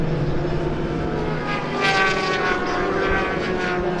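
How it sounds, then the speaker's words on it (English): Race cars fitted with 1000cc motorcycle engines at Silverstone circuit, a loud continuous high-pitched engine scream that swells slightly as the cars pass, steady throughout with no talk. "Listen to the scream of those 1000cc motorcycle engines."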